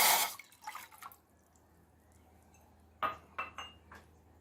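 A cup of water poured into a saucepan on a gas stove for basundi tea: a short splashy pour, a quiet pause, then a few clinking, dripping bursts close by, with no talk.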